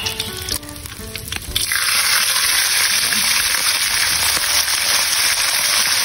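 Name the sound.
galunggong fish frying in oil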